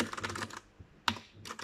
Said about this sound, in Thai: ก็เลยไปหาเปลี่ยนมาเป็นคีย์บอร์ดแมคานิกนะครับ